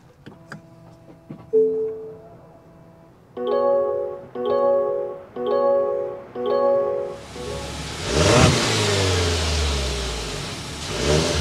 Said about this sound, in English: start up this plug-in hybrid so you can hear that exhaust vent.